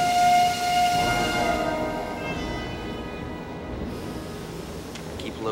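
Train rolling along near the Austrian border, a steady rumble of carriages with a brief high whistle-like tone early on, fairly close and continuous with no talking.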